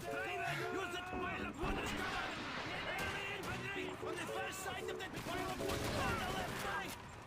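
Rapid gunfire from the shooting game Call of Duty 2, bursts of shots and impacts layered with in-game noise while someone narrates over them.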